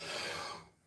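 A person coughs in one harsh, close burst while sorting seeds on a glass table, the sound tailing off into breathy quiet.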